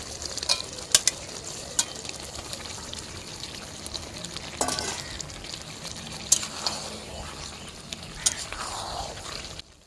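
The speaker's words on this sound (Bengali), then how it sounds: "এখন আমি এই ভেজে রাখা আলুগুলো এর মধ্যে দিয়ে দিচ্ছি" Fried potatoes go into a wok of half-cooked duck meat curry, a soft sizzle with scattered spoon clinks and stirring scrapes, fairly quiet and close.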